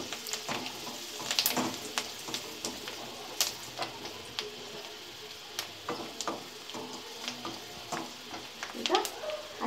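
Onions fry in a pan for a chicken kabab manchurian, giving a steady background sizzle broken by scattered clinks and scrapes of stirring, with no talking.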